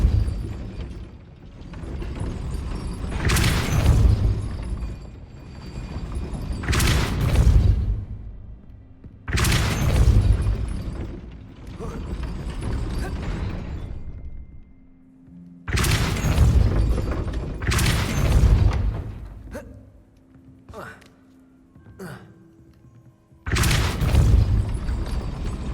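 Repeated deep booming blasts from the Depulso spell in Hogwarts Legacy burst out one after another, some in quick pairs, loud and rumbling with short gaps, and no speech over them.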